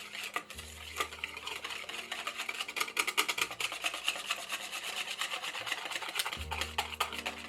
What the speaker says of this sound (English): Let's just keep mixing up this pudding